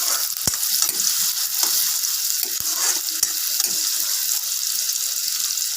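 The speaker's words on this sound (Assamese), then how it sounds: "মই পিঁয়াজখিনি অলপ ৰঙচুৱা হ'ব দিম।" Chopped onions fry in a pan for an Assamese pumpkin and potato dish, giving a steady bright sizzle with a few sharp clicks as a spoon stirs and scrapes them, close and continuous.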